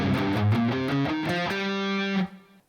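A distorted electric guitar plays a G Locrian scale, stepping quickly through rising notes before holding the last one, which rings briefly and then cuts off.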